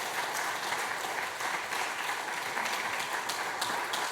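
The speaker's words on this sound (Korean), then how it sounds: "수료증과 선물을 드릴 때 박수로 축하해 주시기 바랍니다" A church congregation claps in celebration during a Sunday service certificate presentation, steady dense applause sustained throughout with no voices over it.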